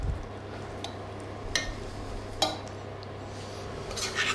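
Tablespoon spreading a creamy vegetable layer across a baking tray, soft scraping with a few sharp metallic taps against the tray over a steady background hum.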